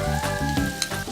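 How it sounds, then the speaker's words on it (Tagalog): Garlic tossed into pork belly already sizzling in a hot pan, a steady close crackle with a few stirring scrapes and a faint metallic tap, no voices. "bago magkaroon ng kulay yung ating karne, lalagay ko na yung ating bawang"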